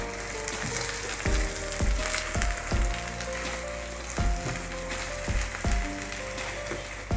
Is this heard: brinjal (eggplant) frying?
yes